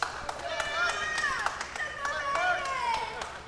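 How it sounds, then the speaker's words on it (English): A cage fighting crowd at New Line Cagefighting 28 claps and cheers for fighter Justin Butcher after his triangle choke win, scattered applause under a commentator talking over it. "Big pop in the crowd for Mr. Butcher"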